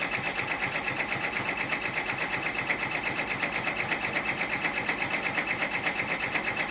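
Sewing machine running steadily as it stitches stabilizer onto the underlayer of an Easter mug rug, a close, even, rapid mechanical whir with a fast repeating needle beat and no pauses.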